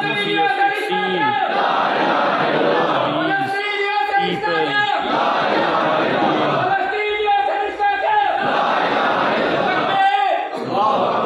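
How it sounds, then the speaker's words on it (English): A large crowd greets the Mufti of Gaza with loud, sustained cheering and rhythmic chanting, many voices swelling and dipping in waves throughout. "Here he is being received by the large crowd of the people."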